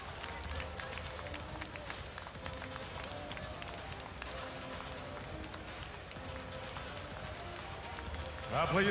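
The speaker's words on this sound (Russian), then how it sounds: "Аплодисменты." Applause from a boxing crowd for Eduard Troyanovsky, a dense steady wash of clapping and crowd noise that holds throughout and swells louder at the very end.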